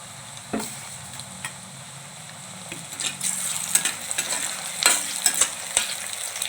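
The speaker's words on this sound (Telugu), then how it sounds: "టమాటా వేస్తున్నాను" Tomatoes go into a pan of onions and green chillies for a drumstick curry, then fry with a soft sizzle while a utensil scrapes and stirs in sharp, repeated strokes close by, with no voices.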